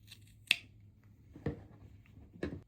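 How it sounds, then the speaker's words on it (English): Scissors trimming the ends of a zipper tab level with the edge of the zipper tape during tote sewing give three separate crisp snips, close and fairly quiet, with near silence between them. "you're just going to trim it so that the ends are even with the edge of the zipper tape"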